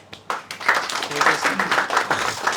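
A classroom of students breaks into a burst of rhythmic clapping, moderately loud and close, with voices talking over and between the claps.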